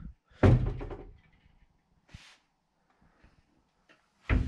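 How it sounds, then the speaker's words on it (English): A wardrobe door in a studio apartment is moved and shut, heard as a heavy sliding rumble, then a single brief knock, and finally another sharp thud at the end, close and with no talk. "You can move this door,"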